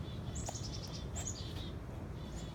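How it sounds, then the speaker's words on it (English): Chickadees call in an outdoor wooded spot by a flooded partridge run, a short series of thin high notes repeating at moderate distance over steady low background rumble and wind. "Chickadees."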